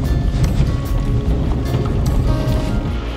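Strong, steady cold sea wind at Dublagadi beach roars and buffets the microphone, with a deep continuous rumble and no talk.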